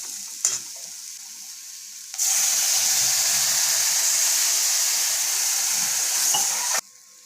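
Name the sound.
potatoes cooking and sizzling in a pan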